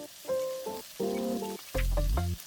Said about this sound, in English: It's very important to hear that sizzle.